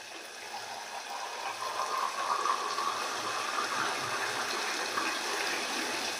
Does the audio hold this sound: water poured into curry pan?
yes